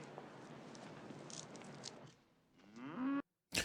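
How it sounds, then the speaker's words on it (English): Cows in a scene from the 1974 Western comedy Blazing Saddles give a single drawn-out moo near the end over soft outdoor background noise, and the sound cuts off abruptly. "They still got the cows."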